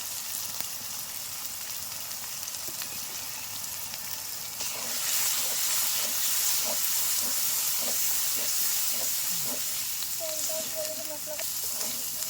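Bay leaves and chili powder hit hot oil with a bright, close sizzle that swells partway through and keeps hissing, with stirring clinks and a few brief tonal squeaks near the end.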